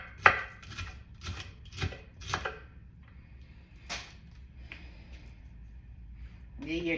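A knife chops through cabbage in a run of sharp, close, evenly spaced cuts, then a pause of quieter handling and a couple more isolated strikes, with faint background noise throughout.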